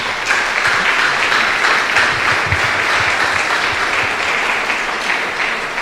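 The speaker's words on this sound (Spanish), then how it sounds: "Le damos un aplauso a la palabra de Dios." A church congregation applauds together in a steady, dense wash of clapping that fills the room at a strong level, with no talking over it.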